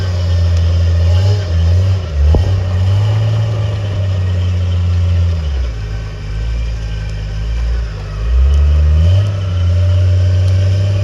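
A Jeep with a broken front axle, running in two-wheel drive, rumbles steadily as its engine works and revs in low surges while climbing out of a ravine, loud and close throughout.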